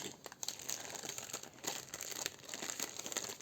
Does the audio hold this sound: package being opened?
yes